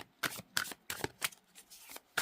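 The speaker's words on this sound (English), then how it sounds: "Let's see how these cards shuffle" Glossy tarot cards being riffle-shuffled up close, a quick series of seven crisp rippling bursts in an even rhythm, with no talking.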